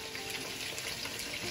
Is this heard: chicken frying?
yes